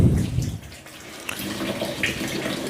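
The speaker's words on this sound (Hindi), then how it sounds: "ये हम तीसरी दफ़ा पानी भर रहे हैं इसमें" Water splashes and gushes from a tap into a container of sprouts being washed, a steady broadband rush with small splashes, close by and alone.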